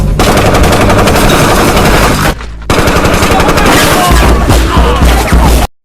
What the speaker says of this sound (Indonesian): terjadilah baku tembak di tempat itu